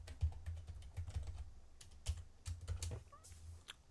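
Quick, light typing on a computer keyboard while an HLOOKUP spreadsheet formula goes into the formula bar for a MOS Excel lesson. Clicky keystrokes come in uneven bursts, close by, with no talking.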